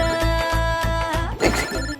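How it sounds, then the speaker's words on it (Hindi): A mobile phone ringtone plays a repeating melodic tone pattern, ringing steadily throughout with no talk over it, in a scene at a swing. "मेरा फोन आया है।"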